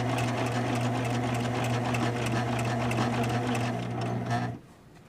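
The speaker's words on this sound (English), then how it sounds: "it would be harder to line up your seams to get them straight because you're sewing around a circle" Close, steady motor hum and rapid needle chatter from a sewing machine running seams around a circular bingo bag, continuing evenly before stopping abruptly near the end.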